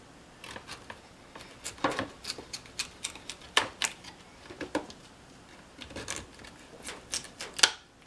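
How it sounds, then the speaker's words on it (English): A knife dices beets into chunks on a cutting board, producing a series of sharp, irregular chopping taps close by. "you're gonna dice up 2 of your beets."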